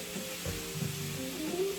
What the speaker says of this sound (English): Let that sizzle up a little bit.